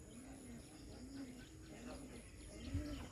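Pigeons cooing softly in a loft, a pair of birds giving repeated low rolling coos at a steady rhythm against faint background hiss.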